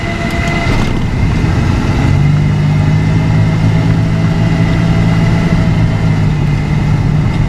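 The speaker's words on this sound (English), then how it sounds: "Still have engine braking." A LeSharo's engine with a MagnaShift-controlled transmission drones steadily at low pitch, with a sustained low hum rising partway through as it downshifts and engine-brakes on deceleration.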